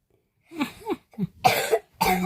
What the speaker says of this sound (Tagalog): May ubo-ubo pa siya.